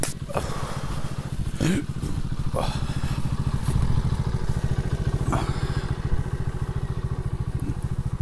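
A moped riding along a village road on the way to go fishing, its small engine buzzing steadily and close throughout, with occasional bumps and rattles over the ride.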